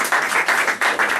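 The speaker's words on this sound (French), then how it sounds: "on l'applaudit bien fort" An audience applauds at a French presentation, with steady rhythmic group clapping in pulsing waves, loud and close throughout the short burst.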